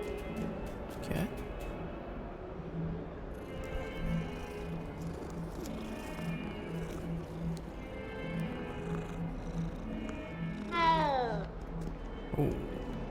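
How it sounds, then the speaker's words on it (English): A cat in the video game Hogwarts Legacy meows repeatedly over game music and ambience, with one clearer, louder drawn-out meow near the end. "Is that a cat?"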